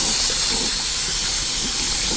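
Water runs from a faucet to rinse the lint-clogged filter of a floor auto scrubber, a steady loud hiss that continues unbroken for the whole moment.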